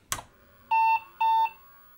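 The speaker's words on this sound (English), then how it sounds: "still 2 angry beeps and a black screen" A short thump, then two identical electronic beeps, each about a quarter second long, clear and steady in a quiet room: an IBM 5155 Portable computer's power-on error beeps with a black screen.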